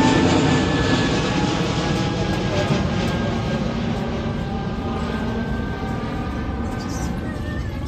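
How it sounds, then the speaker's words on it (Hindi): An airplane passes near the airport beside Patna's Eco Park, making a continuous broad roar that holds steady and fades slightly. It drowns out the park around it, with no clear voices. "जा रही है विमान।"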